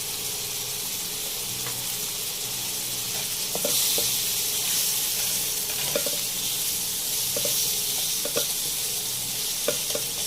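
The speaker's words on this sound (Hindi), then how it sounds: "और इन सब चीज़ों को हमें एक साथ भून लेना है अच्छी तरह कि हमारा मसाला तैयार हो जाए" Ground chilli, turmeric, coriander powder and salt fry together with cluster beans (gawar phali) in a pan: a close, continuous sizzle with light clicks of stirring at intervals and no talk.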